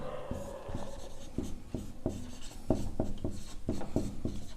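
A pen scratches across paper while working a class 9 maths problem: close, rhythmic strokes and taps in quick succession over a quiet background.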